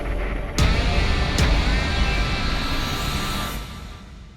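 Cars launching side by side in a street-style drag race with no start lights, a sustained loud engine roar with two sharp bursts early on, staying steady before easing off near the end.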